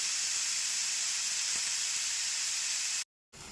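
Onion, tomato and peas sautéing in a pan over a low gas flame while making vermicelli upma, a steady loud sizzling hiss throughout that cuts out briefly near the end, with no talking.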